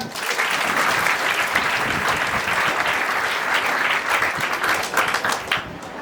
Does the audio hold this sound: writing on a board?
no